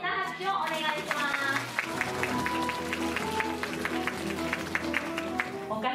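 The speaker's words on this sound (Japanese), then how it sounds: "皆様もう一度大きな拍手をお願いします" Sustained applause from an audience at a cat show at Nasu Animal Kingdom, a steady patter of many hands clapping throughout, with a voice speaking over it.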